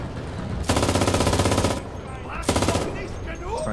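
Enlisted gunfire: two long, loud bursts of rapid automatic machine gun fire, the first lasting about a second, the second shorter, with scattered battlefield noise between them.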